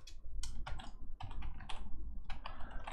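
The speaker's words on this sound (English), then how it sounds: "just type in the email" Keys clack on a computer keyboard as an email address is typed in to log into a Bitcoin mining website, a quick irregular run of close, distinct taps with steady background noise and no talk.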